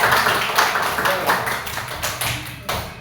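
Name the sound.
classroom applause for a student group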